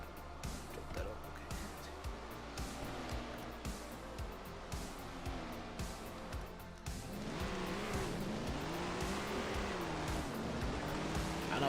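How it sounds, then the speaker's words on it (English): Big block modified and late model race cars roar around a speedway, a steady dense engine drone that swells louder and rises in pitch toward the end, with faint crowd chatter mixed in. "I know everybody loves these big block modifieds and the late models"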